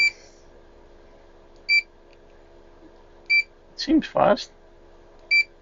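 Fluke 287 multimeter in an AN/GSM-437 Army kit sounding short, clean continuity beeps, several spaced tones with a quick double burst near the middle, close and clear, with someone speaking briefly between them.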